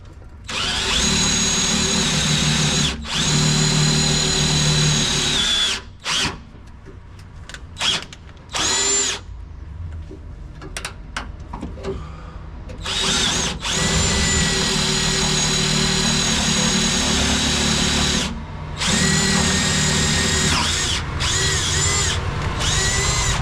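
A power drill with its chuck spinning during a rear camber kit install on a 2022 Ford F-150 Lightning, loud and close, with long steady whirring runs broken by brief pauses and shorter bursts.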